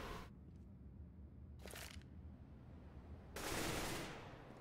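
Gunfire exchange in a Counter-Strike match, with short bursts of shots in separate volleys and the loudest, longest flurry near the end, set against a quiet game background.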